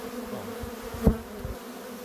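Honey bees buzz steadily while being shaken down into a hive during nest assembly, a close, continuous drone with a brief louder thump midway.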